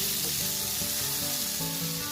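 Close, continuous sizzling of bodi beans frying with spices in oil on a low flame, with light stirring sounds and no speech.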